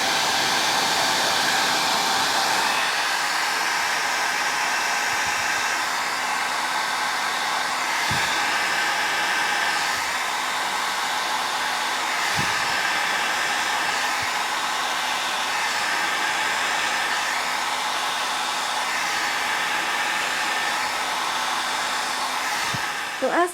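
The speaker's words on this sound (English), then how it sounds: "using the hairdryer on beside the color and lean it into the color and around and lean it into the color." A hair dryer blows continuously on alcohol ink artwork, a loud, steady whooshing drone held for the whole stretch with only slight shifts as the dryer is moved around the color.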